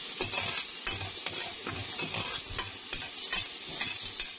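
Onions frying in a pan over lowered heat for a Filipino sotanghon dish, giving a steady sizzle with soft stirring scrapes throughout, close and even, with no voices.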